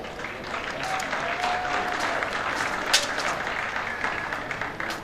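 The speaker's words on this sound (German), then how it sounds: "Mit Ihrem Applaus, Österreich." Spectators at a combined driving competition applaud Austrian single-horse carriage driver Markus Fleischmann and his horse Toro: dense, steady clapping from a sizeable crowd that holds at an even level throughout, with no voices.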